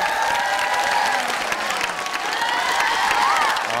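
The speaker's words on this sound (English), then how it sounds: "let's have all your friends here give a round of applause" Elementary school children giving a round of applause, steady crowd clapping with excited voices and cheering rising over it, moderately loud throughout.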